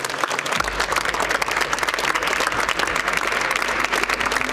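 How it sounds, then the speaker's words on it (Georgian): A crowd of European leaders applauds in a dense, sustained burst of clapping, steady and loud from start to finish, with no voices standing out. "ევროპელი ლიდერების აპლოდისმენტები"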